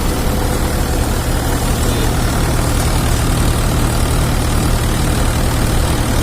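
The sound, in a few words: threshing machine running with tractor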